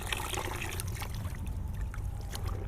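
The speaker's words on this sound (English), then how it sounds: "pushing the clothes into the water," Wet clothing pushed down into a basin of water and lifted back out during hand washing, giving continuous soft sloshing and dribbling trickles, close and fairly quiet, with no talking.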